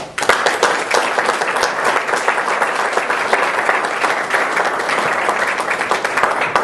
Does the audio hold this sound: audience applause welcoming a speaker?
yes